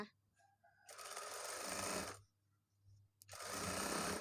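A sewing machine stitches a side seam on a beginner's blouse in two short, close, loud bursts of rapid mechanical whirring separated by a quiet pause.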